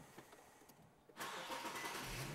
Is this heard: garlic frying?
no